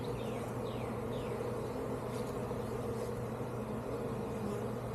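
Honey bees buzz steadily from an open hive during a beekeeping lesson in Jacksonville, Florida, a dense, continuous hum filling the whole stretch with a few brief higher passes of individual bees close by.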